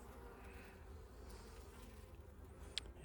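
Honeybees at a top bar hive in fall, heard as a faint, steady low buzzing that carries on without a break, with no voices.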